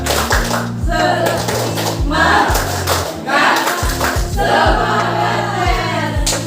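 Classroom of students doing a rhythmic clap chant led by a teacher: groups of sharp, close hand claps in counted bursts, with chanting voices mixed in among the beats.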